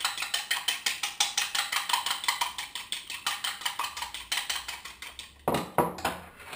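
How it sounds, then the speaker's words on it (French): An egg being whisked in a mug for an Oreo mug cake, with a fast, steady rhythm of utensil clicks and scrapes against the mug, fairly close and alone, ending in a few sharper knocks. "Alors on va commencer par mélanger l'œuf."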